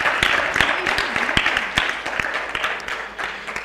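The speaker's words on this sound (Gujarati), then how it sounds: "તો એમને આપણે એકવાર તાળીઓના નાદથી વધાવી લઈએ" A congregation claps for the author of a devotional hymn in a Swaminarayan gathering, a brief burst of scattered, uneven applause of moderate loudness.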